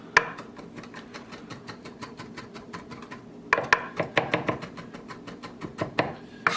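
A knife chops on a cutting board in quick, regular strokes, with a brief pause at the midpoint before sharper, louder chops resume close up.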